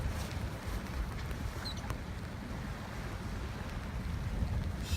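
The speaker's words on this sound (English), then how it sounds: "the heaviest boat on the Solent right now is steaming past you." A heavy barge steams past a sailing boat on the Solent on a cold day, heard as a steady low engine rumble mixed with wind buffeting the microphone and water noise, with no talking.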